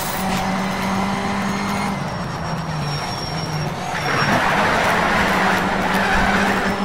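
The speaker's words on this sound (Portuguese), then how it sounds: "Gostoso dirigir esse Escort." A Ford Escort engine hums and drones while racing in Need for Speed Shift, a steady mid-pitched engine tone with rough broadband road and wind noise swelling louder toward the end.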